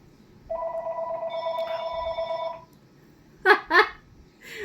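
A telephone bell rings indoors in two bursts: a long sustained electronic ring with steady overtones, a pause, then two short rings, moderately loud against a quiet room.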